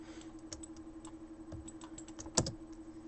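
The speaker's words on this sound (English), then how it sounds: "Tap F on my keyboard to zoom in on the object" Quiet, close computer keyboard keys tap in an irregular run of light clicks while modeling in Autodesk Maya, with one sharper, louder keystroke near the end and no voices.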